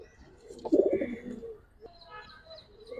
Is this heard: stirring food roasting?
no